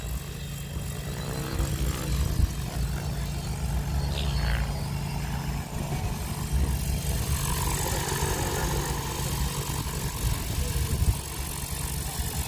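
Whiplash 730e F3C electric RC helicopter hovering at 1400 rpm outdoors in light wind, a steady, smooth rotor drone with constant buzzing whine that stays close and even throughout.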